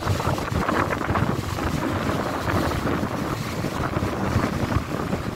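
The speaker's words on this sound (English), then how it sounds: "windy day here in Puerto Rico right now" Constant wind battering the microphone on a windy day in Puerto Rico, a thick blustery roar with small gusty swells and no voices.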